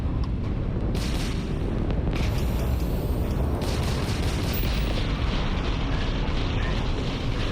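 Missile explosions in Starfield, heard as loud, dense, rumbling booms and blasts that roll on continuously, with sharper bursts near the start.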